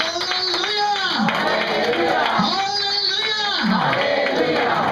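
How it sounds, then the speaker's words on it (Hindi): A church congregation claps loudly together during a Hindi sermon, a dense continuous patter of many hands mixed with crowd noise and a voice speaking over it. "हम लोग जोर से ताली लगाए"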